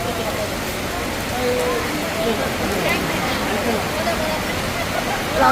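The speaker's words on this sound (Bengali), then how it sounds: "বিশাল বৃষ্টি হচ্ছে" Heavy rain pouring down outdoors, a dense steady hiss and wash of falling water with faint background voices and crowd murmur beneath it.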